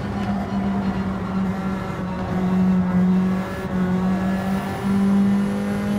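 A race car engine in a Gran Turismo 7 online daily race drones loudly and continuously, its pitch rising and dipping slightly as the throttle is worked, with no talking.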